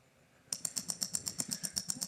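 A wristwatch at 28,800 vibrations per hour ticks rapidly and steadily, about four sharp metallic clicks per second, starting abruptly after a short quiet moment, close and clear.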